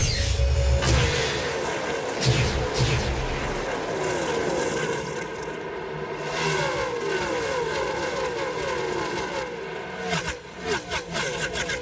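Several NASCAR stock car engines roar loudly and continuously at the 2005 Samsung RadioShack 500, rising and falling as the cars rev and pass, with a dense mechanical drone and no clear talking.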